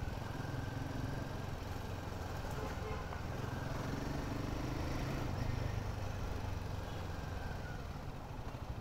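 A Royal Enfield Himalayan 450 motorcycle engine runs steadily and fairly close, a continuous mid-pitched rumble with no clear revving, while wind or road noise fills the background.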